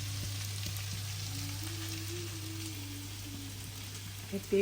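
Chickpeas (boot bhaji) fry in a pan for iftar, giving a faint steady sizzle like light rain under a low kitchen hum, with no voices.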